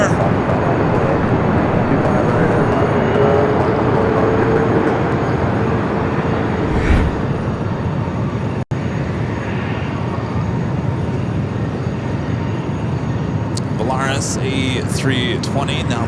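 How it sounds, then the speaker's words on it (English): Southwest Boeing 737 MAX 8 jet rolling down the runway for takeoff at Los Angeles airport, a steady distant engine rumble under talk, with a sharp click partway through. "Here in a Southwest 737 MAX 8 rolling down."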